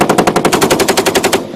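An M2 .50 caliber machine gun fires one sustained burst of roughly a dozen rapid, evenly spaced heavy shots, loud and close, before it stops abruptly.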